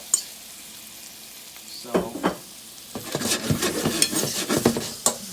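Blanched, pre-cooked carrots tumble into a pan of butter and honey, setting off a soft sizzle with several clattering knocks and stirring scrapes against the pan, close and fairly busy.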